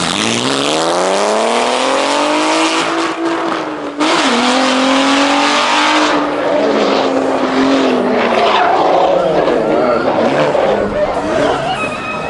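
An R32-powered tube chassis kart racing at Santa Pod, its engine screaming loud and close with rising revs and a gear-change dip, with crowd and commentary noise running underneath.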